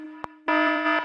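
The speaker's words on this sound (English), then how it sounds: "And that alarm is going off." An electronic alarm going off: a steady tonal hum, a short blip, then a loud buzzing tone that holds for about half a second, with no speech.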